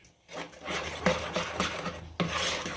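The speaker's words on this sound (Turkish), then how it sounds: "Önce kaşıkla iyice karıştıralım" A spoon stirs flour into liquid in a bowl for unleavened lavash dough, giving close, scraping, rasping strokes in an uneven rhythm with a couple of sharper knocks against the bowl.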